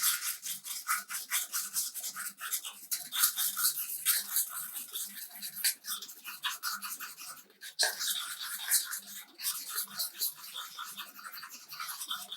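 Terrazzo coaster mixture is stirred by hand after liquid is added, giving a continuous close scraping and rubbing with a quick, uneven rhythm that runs unbroken for several seconds, with no talking over it.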